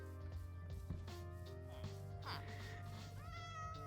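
Cats meowing in a video game, several drawn-out meows rising and falling in pitch over a steady droning background.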